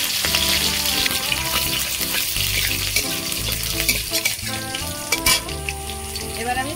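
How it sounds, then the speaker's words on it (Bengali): Black cumin seeds and chopped green chili frying in hot oil in a home kitchen, a steady close crackle and sizzle with occasional stirring clinks, no voices. "ওই তেলের মধ্যে আমি কালো জিরে দেব, কাঁচা লঙ্কা কুচি দেব,"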